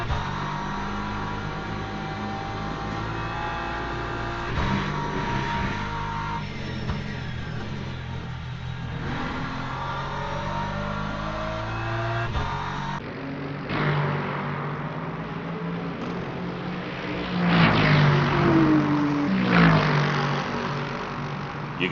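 BMW and Lexus race cars in the Le Mans Ultimate sim, racing in Brazil: a continuous, fairly loud engine drone that rises and falls as the cars rev through gears. No one talks.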